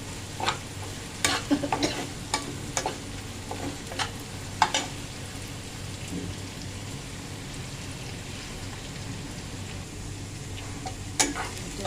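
Onions fry in a pan while a utensil stirs them, with a soft continuous sizzle broken by sharp scraping and clacking strokes at an irregular pace, close up and without speech.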